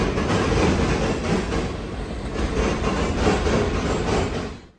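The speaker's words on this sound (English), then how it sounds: "The CSX Local shoves back into the Marion yard with the Conrail caboose on the point." A CSX local freight shoves a Conrail caboose back into the Marion rail yard, giving a loud, close, continuous rumble of rolling cars with a rhythmic clickety-clack of wheels over the joints that fades at the end.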